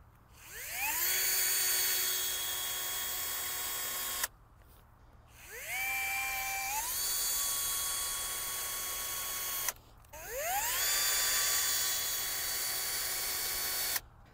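A handheld electric drill runs in three long bursts, each spinning up with a rising whine, holding a steady high-pitched drone for several seconds, then cutting off sharply, close and loud with no voices.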